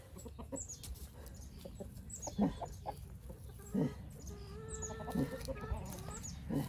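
A chicken clucks nearby in short, soft bursts, with a few louder squawks scattered through and a faint background hum, in a backyard where paper and cardboard are being composted.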